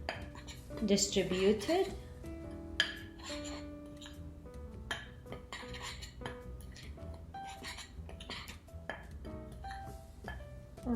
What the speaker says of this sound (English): now I'll mix the flour with the powdered sugar to be evenly